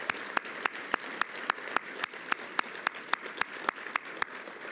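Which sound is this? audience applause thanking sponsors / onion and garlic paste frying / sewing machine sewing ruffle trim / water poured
audience applause thanking sponsors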